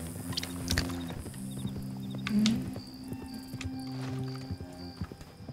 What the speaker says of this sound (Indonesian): kuda kayak motor.